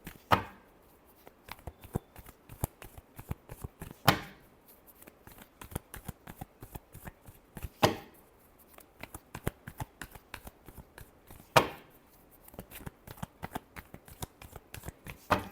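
Tarot or reading cards being shuffled by hand during a Scorpio horoscope reading, a dense run of quick crisp riffling clicks with a few louder bursts every few seconds, close up and with no talking.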